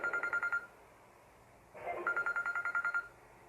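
A telephone rings in two bursts of rapid, trilling pulses separated by a short gap, fairly quiet indoors with no talking over it.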